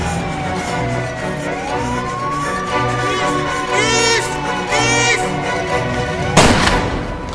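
A single sharp gunshot cracks near the end of a tense drama scene, cutting through wavering siren-like tones and a low background drone.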